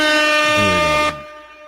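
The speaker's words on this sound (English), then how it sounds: "I really want to do an air horn for y'all" A single loud air horn blast during a live online Q&A stream, a brassy sustained honk lasting about a second before cutting off sharply into quiet.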